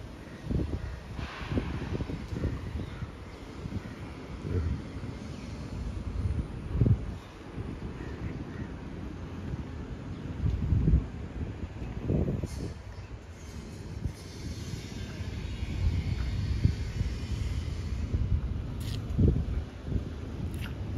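Wind blowing outdoors at night in Singapore, heard as a faint, continuous low rush with soft gusts buffeting the microphone throughout.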